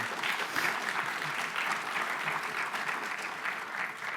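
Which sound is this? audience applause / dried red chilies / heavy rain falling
audience applause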